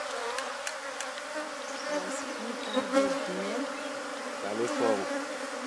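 Bees buzzing steadily around an opened beehive during an inspection, a dense close drone with a few louder passes near the microphone and brief speech.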